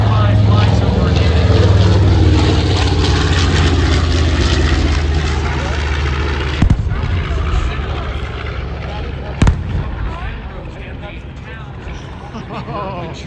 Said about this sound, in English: And you will see, as the B-25 flies overhead